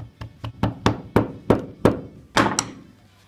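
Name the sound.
hammering a wooden owl's beak into place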